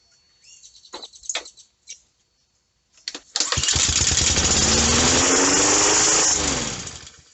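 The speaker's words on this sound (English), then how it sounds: "So she's still firing up, so she's good to go." A few birds chirp, then a Honda GCV 160 lawn mower engine kicks over and roars into a steady, loud running drone close by.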